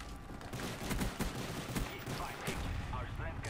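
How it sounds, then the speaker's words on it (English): Teammates' gunfire in Call of Duty: Black Ops on the Villa map during team deathmatch, scattered overlapping shots and short bursts at middle distance over a steady wash of game noise. "you gotta know when your teammates are shooting"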